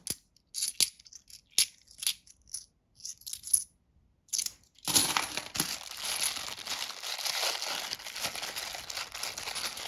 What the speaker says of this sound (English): Just relax and listen to the clinking of the coins